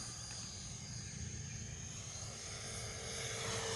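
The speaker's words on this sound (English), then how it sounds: "And the L-39 is just cruising at half throttle, steady as she goes." Freewing L-39 Albatross 80mm RC jet cruising at half throttle, a steady, continuous engine roar with a sustained high whine, holding even and fairly distant throughout with no talk.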